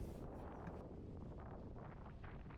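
Wind of about 15 knots from the southwest roars across a boat at sea between the Solway Firth and the Irish Sea, a constant close rushing buffet that dominates the microphone.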